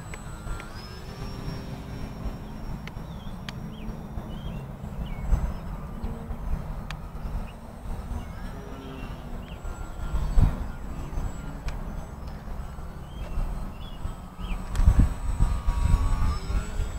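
A propeller airplane drones steadily overhead at night, a low continuous engine rumble with a faint high whine, swelling slightly as it passes while insects or distant noise linger beneath.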